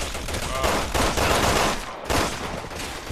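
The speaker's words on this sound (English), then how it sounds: "Shooting like crazy over here." Dense, rapid gunfire from a co-op session of the video game Resident Evil 6, sustained bursts filling the whole stretch with no talk over it.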